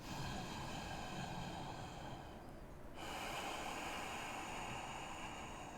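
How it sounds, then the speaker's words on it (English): Slow, steady breathing in a vinyasa yoga session: a long, hissing airflow close up, a brief dip as one breath ends, then another sustained breath. "3 slow, steady breaths"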